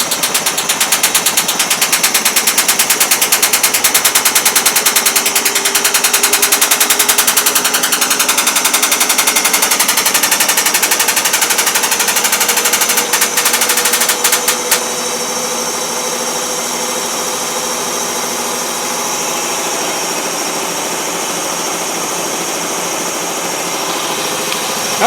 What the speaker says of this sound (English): I don't think a brand new washer should be going crazy like this and making a rattling noise